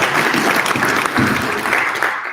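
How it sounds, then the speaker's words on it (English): Audience at a youth summit in Istanbul applauds, a steady, dense wash of clapping from a large crowd that holds evenly throughout with no voices rising above it. "I want to give everyone to give all of them another great round of applause"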